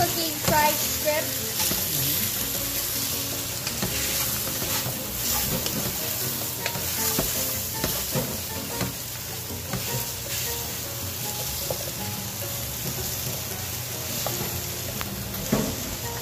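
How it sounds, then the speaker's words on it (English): Shrimp fry in a pan with a loud, constant sizzle and crackle, and now and then a spoon stirs and scrapes through them. The frying is close, and voices talk quietly underneath. "So you're basically cooking fried shrimp."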